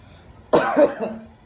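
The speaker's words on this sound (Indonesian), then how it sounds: "maaf saya lagi batuk-batuk" A single close, sharp cough with a short rough tail, breaking out of near silence.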